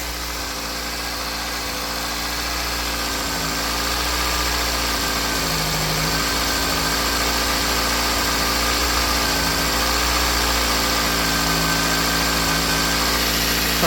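A 2004 Toyota Matrix engine idles as it warms up, a steady close rumble with a constant low hum and a faint whine, rising a little in level early on and then holding even, with no one talking.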